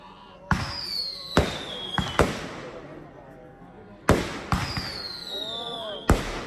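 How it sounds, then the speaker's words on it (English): Fireworks burst at night during a Kavadi festival, with sharp, loud bangs arriving in quick clusters of three or four and crackling tails between them. A voice speaks underneath. "the sky gets illuminated with fireworks"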